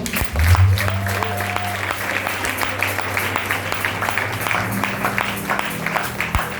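A church congregation at a New Year's Eve service claps and cheers for the Lord, steady applause from a full room that runs on under a preacher's voice.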